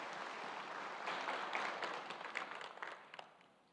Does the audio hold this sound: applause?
yes